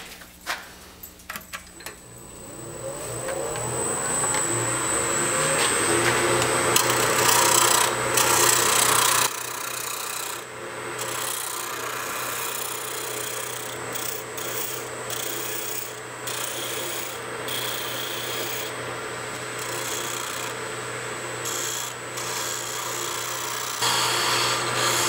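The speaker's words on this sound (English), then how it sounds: "now I'm going to use a little spindle roughing gouge to kind of take this down just a little bit more" A small spindle roughing gouge cuts wood on a lathe, producing a steady, close, raspy scraping that swells and continues for the full stretch, with the motor hum beneath; no one speaks.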